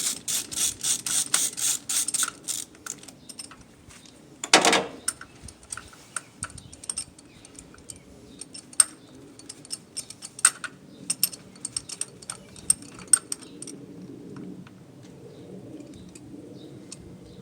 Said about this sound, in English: all you're gonna do is use your long extension with your socket, and all we're gonna do is just remove it